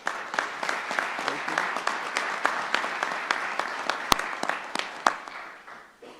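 An audience at a mayor's news conference applauds for the Lieutenant Governor, a dense, even round of clapping from a crowd that runs for several seconds before tapering off.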